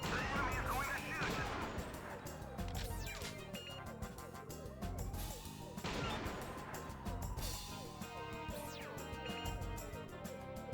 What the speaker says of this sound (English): Watch out, the enemy is going to shoot.